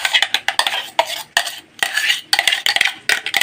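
Ground lentil batter is scooped into a bowl of rice batter for dosa, with close, repeated wet scraping and spoon-against-bowl clinks in short bursts, pausing briefly midway.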